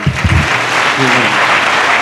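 A church congregation claps during a Hindi sermon, producing loud, dense applause close by that carries on steadily, with a voice heard over it.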